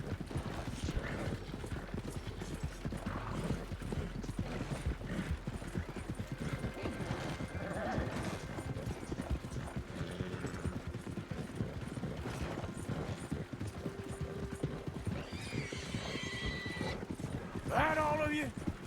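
Horse hooves clip-clop steadily through a Red Dead Redemption II game scene, with whinnying rising near the end, all under ongoing talk and game sounds.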